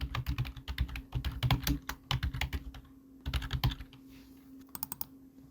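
Typing on a computer keyboard to enter text in InDesign, with close, brisk bursts of key clicks, a short pause near the middle and a few final taps.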